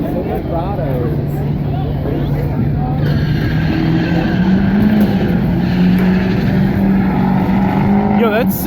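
A Chevrolet Silverado and a Ford Mustang rev and race, their engines droning loud and close with rising pitch, tires squealing, while spectators shout and talk over them.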